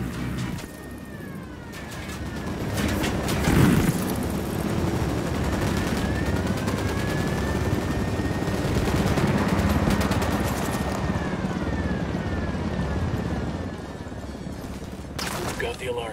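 An alarm wails in the Ghost Recon Wildlands video game on Xbox One X, its steady tones sustained beneath dense, continuous gunfire and vehicle noise during a cartel firefight.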